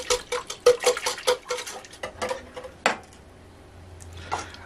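Ingredients are stirred in a bowl, with a quick rhythmic run of close clinking utensil strikes against the bowl that slows into scattered taps before fading to near quiet.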